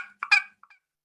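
Two or three quick, soft clucks from a turkey hen, close and brief, with quiet gaps between them.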